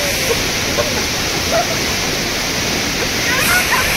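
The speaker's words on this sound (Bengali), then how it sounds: "ওয়াটারফলস।" Kanchenjunga Waterfall in Pelling, Sikkim, roars as a loud, steady rush of falling water during heavy rain and wind, with faint voices beneath it.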